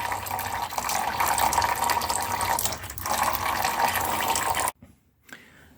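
Coolant pours out of a 2003 Ducati 749S motorcycle engine during camshaft and shim work, a steady near splashing trickle for most of the clip before stopping abruptly, leaving a faint quiet tail.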